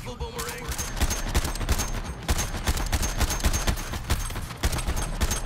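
Rapid gunfire from Captain Boomerang's weapons in the Suicide Squad: Kill the Justice League video game, a near-continuous loud volley of dense overlapping shots with heavy low rumble, sustained across the whole stretch without pause.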